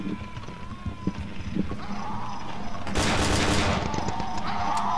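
Gunfire in the horror video game Cry of Fear: a dense burst of shots breaks out about midway and keeps going loudly, under a steady game background with faint scattered sounds before it.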